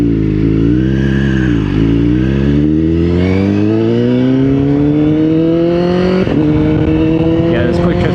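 A Honda FireBlade motorcycle accelerates hard on twisty roads, its engine note climbing steadily through the gears with a sharp shift near the end, loud and continuous with wind roar throughout.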